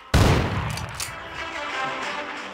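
A shotgun blast in the video game Rust hits with a sudden loud boom at the start, followed by a long rumbling echo and scattered noise.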